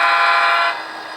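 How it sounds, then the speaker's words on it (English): A locomotive horn gives one loud, sustained honk while the train switches railcars, close by and then tapering off slightly. "We'll give Carl a little wave here and a honk."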